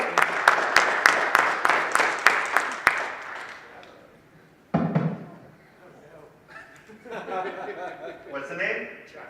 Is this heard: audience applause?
yes